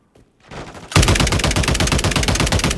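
Rapid automatic gunfire bursts out after a brief lead-in and keeps going as a loud, dense stream of shots in the Call of Duty MW3 video game.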